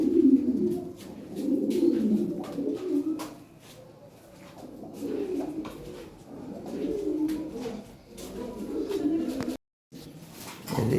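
Big-size fancy pigeons, including a pair of white birds, coo steadily in low, throaty bursts at close range, overlapping calls rising and falling over about ten seconds with a brief drop-out near the end.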